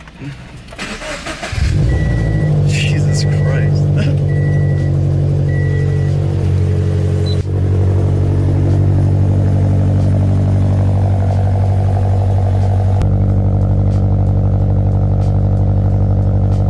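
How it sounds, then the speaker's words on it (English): A Subaru BRZ, Scion FR-S or Toyota 86 sports car engine cold-starts, cranks and fires, then settles into a loud, steady rumbling idle that shifts lower partway through; a short exclamation is heard. "This cold start after work is always so loud."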